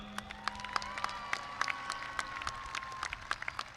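At a high school graduation ceremony, a large audience breaks into scattered, crackling applause that sounds somewhat distant, with occasional sharper claps standing out over a steady background murmur.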